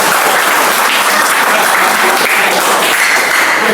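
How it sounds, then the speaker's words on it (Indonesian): Seminar attendees at an international faculty event clap together in a loud, close, unbroken burst of applause with no voices on top. "Ya, tepuk tangan semuanya dulu."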